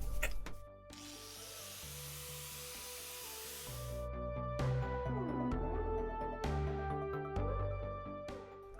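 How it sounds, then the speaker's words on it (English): An angle grinder cuts a notch into an aluminum shifter base during a Dark MatterX DM-1 shifter install. The harsh, hissing cut comes in one long burst, then in several shorter bursts, close and fairly loud, with a ringing motor tone between them. "if you're going to cut aluminum like this with a grinder"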